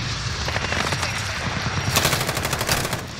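Automatic gunfire in Modern Warfare rattles in rapid, rhythmic bursts, loud and close, growing denser and sharper toward the end.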